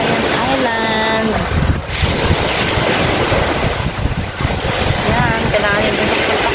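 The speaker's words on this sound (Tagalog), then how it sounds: "Maririnig mo yung ano, mga alon sa dagat." Sea waves wash against the shore at Bantayan Island, a steady surf roar buffeted by wind noise on the microphone, with brief tonal whines from a passing boat or voice in the background.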